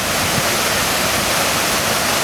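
A small waterfall at the base of a tower, where salmon leap upstream, gives a steady, close, full rushing roar of falling water with no pauses.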